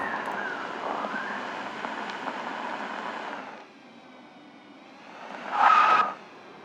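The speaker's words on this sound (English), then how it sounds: "we have too many wind sounds" Steady wind ambience from a video game world map, with a broad hiss, easing off partway through before a brief louder gust near the end.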